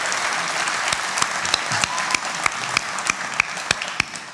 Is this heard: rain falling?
no